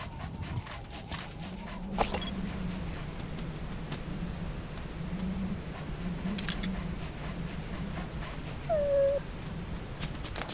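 A dog in the video game Metal Gear Solid 5: The Phantom Pain whimpering, soft panting and a brief high whine near the end over a low, steady in-game background hum.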